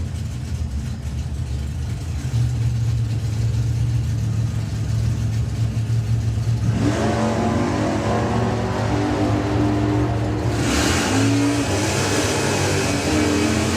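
A drag racing car accelerates down the strip, its engine note climbing through a sustained loud roar with rising harmonics and a sharp surge near the end, no voices over it.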